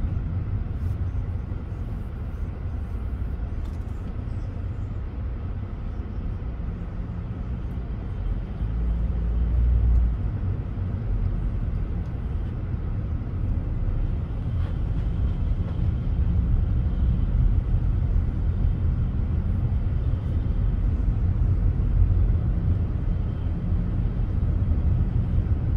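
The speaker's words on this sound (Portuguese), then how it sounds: "Dois carros, passou o primeiro, agora o segundo." Two cars passing one after another on a road between Caruaru and Santa Cruz do Capibaribe, heard as a steady low rumble of traffic and road noise from inside a moving vehicle, with no talking.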